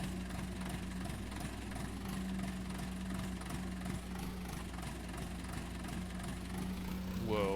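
A tractor engine idles in Farming Simulator 19, a steady low hum with a constant drone running unchanged throughout, moderately quiet, with a brief rising tone near the end.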